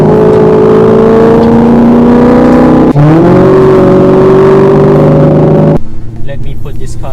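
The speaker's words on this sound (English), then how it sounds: "But that's okay because the engine sounds like this." A Maserati GranTurismo engine roars loudly and continuously, pitch climbing as it revs, dipping briefly with a gear change, then fading to a lower drone, in Singapore traffic.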